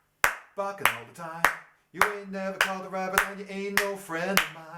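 Sharp hand claps land on the offbeats of a sung line, crisp and evenly spaced while a voice sings over them.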